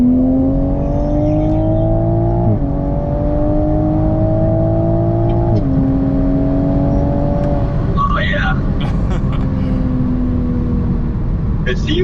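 A manual VW MK8 Golf R with an aftermarket turbo accelerates hard in a race, its engine droning loud and steady, the pitch climbing through the gears with clear drops at each shift, heard from inside the cabin.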